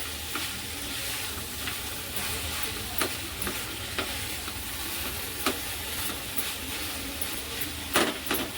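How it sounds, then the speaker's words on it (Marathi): Bitter gourd with jaggery sizzles steadily in a pan while a spatula stirs and scrapes it in irregular clicks throughout, with no talk. "आता याच्यात मी थोडासा गुळ घेतलाय तो पण टाकतो आणि तोही छान मिक्स करून घ्यायचा"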